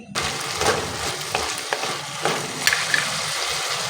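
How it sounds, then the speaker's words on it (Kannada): Spices and chili powder for veg pulao are stirred in a hot pan, a steady sizzle and frying hiss with repeated scraping stir strokes, close up and without talk. "ಇವಾಗ ಇದನ್ನೆಲ್ಲ ನೀಟಾಗಿ ಕಲಿಸ್ಕೊಳ್ಳಿ."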